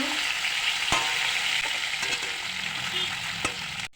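Steady sizzling of rohu fish frying in a pan, with a few sharp clinks and scraping sounds from stirring.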